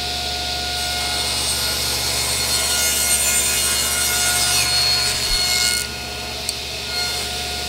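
A saw cuts a tapered wooden stave for a planter box, a continuous close, fairly loud cutting sound that drops off near the end with a small knock.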